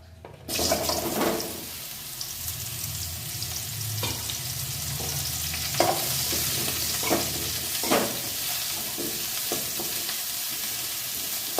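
Mushrooms sizzle in ghee in a pan with a steady, close frying hiss and a few soft stirring knocks.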